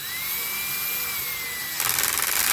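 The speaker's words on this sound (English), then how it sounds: "if you got a drill, put it on like number 1 or number 2," Power drill set to a low clutch setting, a steady high motor whine that turns into rapid, buzzy clutch ratcheting near the end while fastening bolts on a Kawasaki FJ180V engine.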